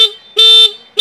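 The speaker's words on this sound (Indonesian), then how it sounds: "Setelah klakson sudah berbunyi baik" Yamaha X Ride motorcycle horn being tested after adjustment: a loud steady electric horn tone sounding in a short blast, with a brief trailing tone before it and another starting at the end.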